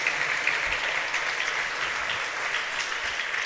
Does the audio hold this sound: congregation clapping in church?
yes